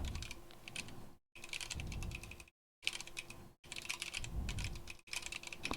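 Steady, close clatter of keystrokes on a corne split computer keyboard, fast bursts of typing broken by a few brief silent gaps, with no talking.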